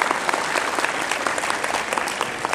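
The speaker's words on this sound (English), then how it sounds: "Can you clap for them, please?" Audience at a lecture applauding, a dense, steady burst of many hands clapping at close range that holds evenly for a couple of seconds with no talk.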